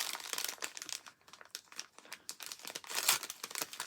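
An envelope holding a small package crinkles and rustles as it is handled, in close, busy bursts of crumpling paper and plastic that swell louder near the end.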